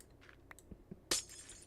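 Glass panes in Minecraft are broken one after another, giving a few faint clicks and then a single sharp shattering crash. The sound is quiet and brief, with no talking.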